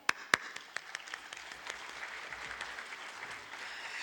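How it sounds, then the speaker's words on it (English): Applause from the audience at a parliamentary seminar of the Parliament of Pakistan. It opens with a few sharp, separate claps, then grows into a steady, moderate round of clapping across the room. "putting our hands together and"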